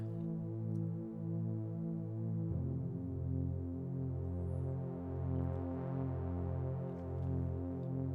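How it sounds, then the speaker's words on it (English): A sustained analog synthesizer pad plays within a music mix, warm and evenly loud, with slow pulsing chords that shift once partway through, with no voices. "Ah, analog pad."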